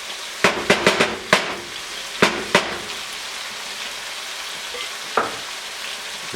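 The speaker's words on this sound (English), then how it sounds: "And stir this up." Seasoned chicken and wild rice casserole with salt, pepper and Dijon mustard being stirred, giving a handful of close scraping clicks and thuds of a spoon in a pan over a soft sizzling background.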